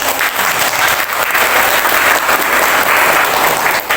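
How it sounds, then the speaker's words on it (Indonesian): A class of chemistry students applaud together in a classroom, loud, dense and steady clapping throughout without a break. "Tepuk tangan dulu kita."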